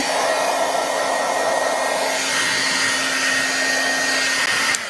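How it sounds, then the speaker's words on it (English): An embossing heat gun blows a loud, steady hot-air roar close up while heating embossing powder, its pitch shifting slightly partway through before cutting off at the end. "now I need to heat my powder again. Use my embossing gun."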